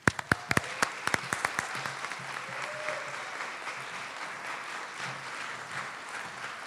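Applause from an audience at a university award luncheon, opening with a few sharp individual claps and then settling into a steady, moderately distant patter of many hands, with faint murmuring underneath.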